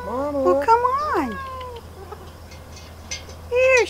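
A cat meows twice in long, wavering, insistent cries near the microphone, with a quieter stretch of background noise between them.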